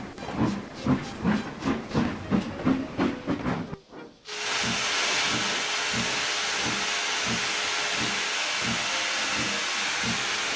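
A video-game steam locomotive chuffs rhythmically, then gives way to a loud, sustained hiss of escaping steam that continues steadily with a faint rhythmic pulse underneath.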